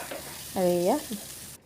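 A soft frying hiss crackles in a kadai while cooking koi fish with tomato, briefly overlapped by a short, tonal vocal sound.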